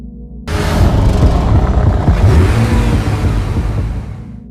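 A V12 Aston Martin roars through its titanium quad exhaust with all four outlets open at full throttle, a loud close rumbling rev that starts abruptly and holds a dense, powerful growl.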